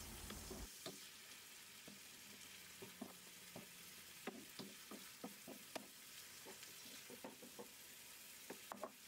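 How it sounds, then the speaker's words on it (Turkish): Oil sizzles steadily in a pan while a utensil scrapes and taps in irregular bursts as food is stirred; no voices. "Biraz sıvı yağ gezdirelim ve kavurma işlemine devam edelim."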